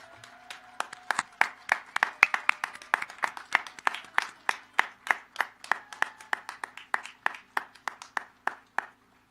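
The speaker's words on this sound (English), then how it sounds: "Let's give them a round of applause." At a commencement ceremony, a small audience claps for the new graduates in a steady, fairly sparse run of individual claps that continues for several seconds, close and distinct with no talk.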